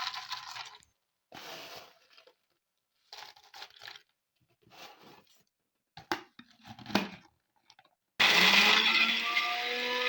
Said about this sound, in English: Cover and blend smoothly.